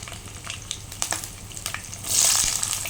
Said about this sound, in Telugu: ఆయిల్ హీట్ అయింది మసాలాలు వేసుకుందాం చెక్క సాజీరా పచ్చిమిర్చి